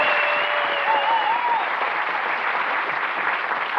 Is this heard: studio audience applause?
yes